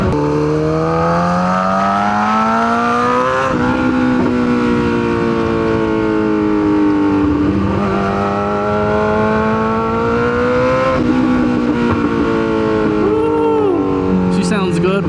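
A 1000cc motorcycle engine revs up and down in repeated rising and falling sweeps, loud and close, running steadily throughout, with someone talking over it.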